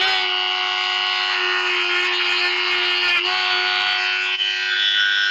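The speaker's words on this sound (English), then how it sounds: "I decided I'd change it up for a little grinding wheel" A tiny 10 mm grinding wheel spins on a rotary tool while finishing a forged rounding hammer, producing a steady, close, high-pitched electric whine that holds evenly throughout, with only a couple of brief dips.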